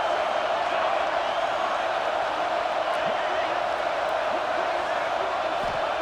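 Crowd noise builds in a stadium during a college football video game between Oregon and Penn State, a constant loud roar from a large crowd urging a red zone defensive stop.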